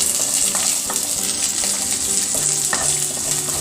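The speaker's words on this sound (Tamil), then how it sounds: "20 பல் பூண்டு போட்டுடலாம்." Garlic cloves frying in a pan for a village-style fish curry, a steady loud sizzle with occasional stirring scrapes and pops throughout.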